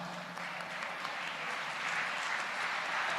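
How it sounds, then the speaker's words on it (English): Steady applause from an audience at a student interaction event in Tamil Nadu, a dense, even wash of clapping that keeps going throughout without a break. "Big round of applause again for the first ranker in NEET, which we got this year."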